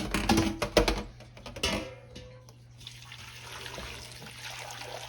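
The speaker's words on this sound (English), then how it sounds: "I'm gonna pour it right in my pot here." Turkey stock poured from a container into a cooking pot in a home kitchen, starting with clattering handling knocks, then settling into a steady soft trickle and splash of liquid that runs on to the end, close and fairly quiet.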